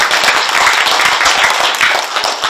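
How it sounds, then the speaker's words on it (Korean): A crowd at a political talk gives a loud, dense round of applause, continuous clapping filling the moment without any voices over it. "하여튼 돈 얘기하면 박수를 치시더라고요"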